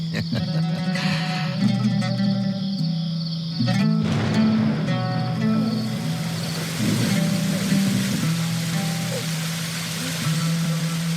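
Steady rain hisses throughout, loud and close, with a low droning tone and insect-like chirping layered underneath.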